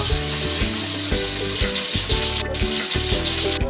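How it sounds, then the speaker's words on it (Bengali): Katla fish roe with potato frying in a pan, a steady close sizzle with soft stirring scrapes throughout and no voices. "ভেজে নেব এটা বেশি ভাজতে হবে না"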